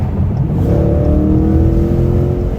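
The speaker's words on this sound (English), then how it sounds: "you definitely better be holding on to the wheel when you punch it" A 2019 Dodge Challenger accelerates hard, its engine loud and close, pitch climbing steadily as it revs up through the gear.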